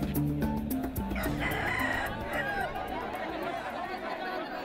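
A fighting rooster crows near the start amid a noisy village market crowd in Chhattisgarh, India, full of chatter and clucking, with the crowd's murmur continuing steadily afterward.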